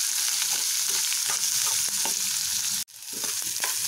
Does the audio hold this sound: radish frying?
yes